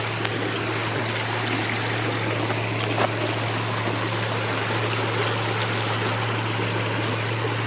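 A strong Pennsylvania creek current rushes steadily during trout fishing, a loud, continuous churning wash of water with a low steady hum underneath and occasional faint splashes or clicks.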